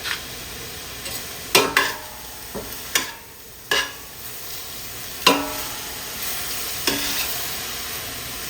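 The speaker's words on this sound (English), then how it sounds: "let it keep sauteing very gently for the next few minutes" Vegetables sautéing gently with salt in a pan for a stuffed fermented eggplant dish, a steady soft sizzle broken by several sharp scraping stirs of a utensil against the pan, close and alone without speech.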